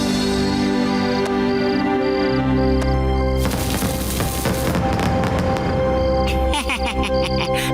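Firecrackers burst during a Diwali celebration in the Motu Patlu cartoon, a dense crackling barrage breaking out loud midway over steady background music and carrying on to the end.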